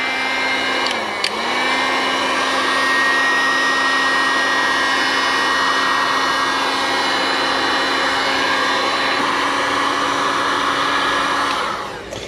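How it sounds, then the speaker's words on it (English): A hot air gun heats an aluminum engine case from a DRZ 400 motorcycle during a rebuild, giving a steady, loud, close whooshing blower drone with a motor whine that holds for about ten seconds before cutting off. "I'm just going to use a hot air gun and heat up the whole case"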